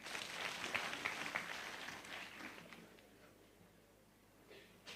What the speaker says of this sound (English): Give him a big clap.